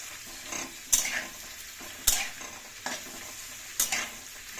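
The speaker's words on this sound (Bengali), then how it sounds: "এবার আমি পেঁয়াজগুলো ভেজে নেব" Onions frying in hot oil in a home kitchen for a mutton dish: a soft steady sizzle with a few sharp spatters and stirring clinks at intervals, faint and without voices.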